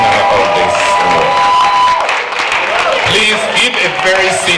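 Audience applause and cheering at a church gala for an award recipient, with a loud continuous crowd of clapping and shouts and a few voices audible within it.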